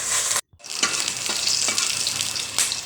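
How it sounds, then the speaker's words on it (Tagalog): Garlic sautéing in hot oil for a Filipino sarciadong galunggung, a steady close sizzle with a short break near the start and soft utensil stirs scraping through the crackle. "Nakapagpainit na nga rin po pala ako dyan ng mantika at lagisa na po ako ng bawang"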